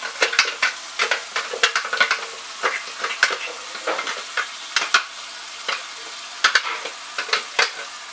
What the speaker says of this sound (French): Je vais les faire revenir. Je vais prendre pour cela une cuillère en bois.